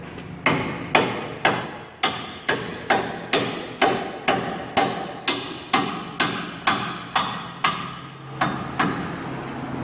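A hammer strikes a front ball joint on a Ford F250, driving it back into the knuckle with about eighteen sharp, evenly spaced metallic blows in a steady rhythm, close and loud, with no talk.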